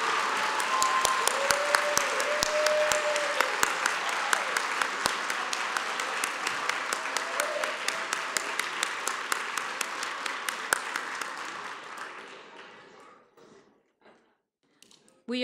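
Sustained audience applause breaks out for young artists at a city-wide art festival opening ceremony, dense steady clapping that holds for a long stretch before thinning out and fading to near silence, with a few scattered claps at the end.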